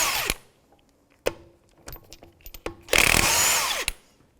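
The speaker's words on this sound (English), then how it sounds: "19mm socket. We're going to take the lug nuts out." A power tool with a 19mm socket spins lug nuts off the rear wheel studs of a 2001-2007 Volvo V70, in several short whirring bursts followed by a longer, louder run, close up with no talking.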